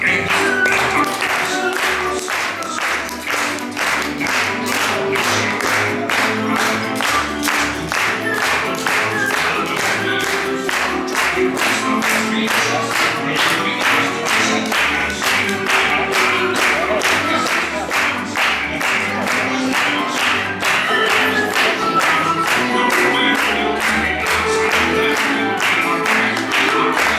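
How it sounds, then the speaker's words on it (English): A crowd at a Walt Disney World show claps along steadily in time with loud, upbeat music, the even rhythmic claps running throughout without letup. "And everybody clap along."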